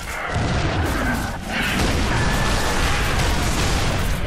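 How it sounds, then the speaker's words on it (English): Continuous booming explosions and blasts in a Halo 3: ODST Flood Firefight roll together in a loud, dense barrage, with a brief dip before the noise swells again. "Explosions."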